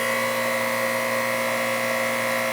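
A noisy Bristol compressor in a central air conditioning unit running steadily, a loud continuous mechanical hum with strong tonal whine, close and unbroken, no voices.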